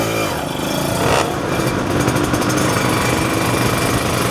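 A Kawasaki Ninja 150 RR two-stroke motorcycle on a test ride, its engine a loud, steady, buzzing drone with a brief rise in revs early on, and no voices.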